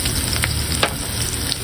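Garlic fries in a pan for a bottle gourd (lau) dish cooked outdoors in a garden, a loud, continuous hissing sizzle with a few small crackles and no talking.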